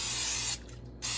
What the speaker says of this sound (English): We're going to start by spraying a skillet